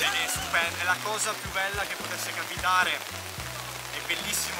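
Rain patters steadily on umbrellas while a crowd queues outdoors at Lucca Comics, with continuous close talking running over the wet hiss throughout.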